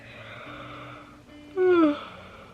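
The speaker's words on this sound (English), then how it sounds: "I'm so sorry, I keep yawning." A single close yawn rises and falls in a drawn-out, breathy moan, following a stretch of quiet, muffled voice.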